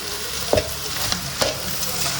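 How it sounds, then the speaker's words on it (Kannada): Rice stirred into hot tempering in a pan for mango rice: a continuous sizzle with a few sharp scraping clacks of a spoon against metal. "ಇಷ್ಟು ಒಗ್ಗರಣೆಗೆ ಇಷ್ಟು ಅನ್ನ ಹಾಕ್ತಾಯಿದ್ದೀನಿ"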